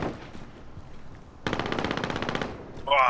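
Rapid bursts of automatic gunfire in Call of Duty: Modern Warfare online mode erupt halfway through after a quieter stretch of background noise, loud and close, with a brief electronic tone at the end.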